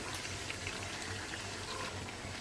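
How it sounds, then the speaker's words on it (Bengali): Broth poured into meat cooking in a pot, a faint, steady gurgle and bubbling of liquid filling the pan, continuous and fairly quiet, with no talking. "এখন ঝোল দিয়ে দিব।"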